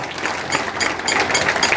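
Audience applause at a watershed inauguration event, a steady wash of many hands clapping at moderate loudness throughout, without talk.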